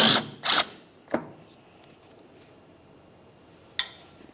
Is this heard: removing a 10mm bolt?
yes